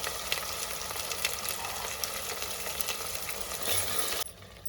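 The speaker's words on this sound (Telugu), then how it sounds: "లో ఫ్లేమ్లో పెట్టి ఫ్రై చేసుకోవాలి" Ginger garlic paste with turmeric fries on a low flame in a pan, giving a close, steady sizzle with scattered crackles and light stirring scrapes before the sound drops away near the end.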